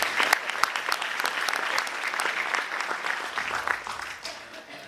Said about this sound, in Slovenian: Še večji aplavz.